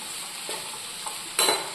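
Food fries in a pan with a soft, steady sizzle, and a brief louder burst of hissing near the end.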